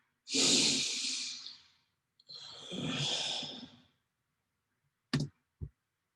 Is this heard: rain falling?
no